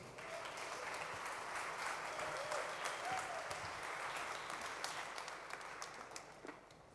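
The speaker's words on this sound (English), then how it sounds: "Please give a big round of applause from London, Tristan Stevenson" A crowd at a show applauds the London speaker Tristan Stevenson, a sustained wash of clapping heard at a distance that holds steady before gradually thinning toward the end.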